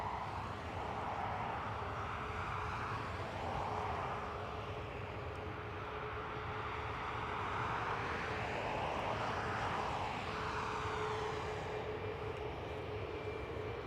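A Ryanair airliner at Dublin Airport roars steadily throughout, its broad engine noise swelling and easing in slow sweeps as it passes, with a faint steady whine riding above.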